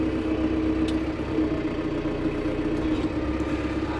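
A tractor fitted with a grapple runs steadily with a low, even engine drone and hum throughout, no voices heard.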